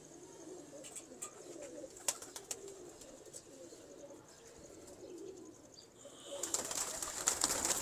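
Sialkoti-type pigeons coo in soft, low repeated murmurs, with scattered sharper chirps and a brighter rustle of birds building near the end.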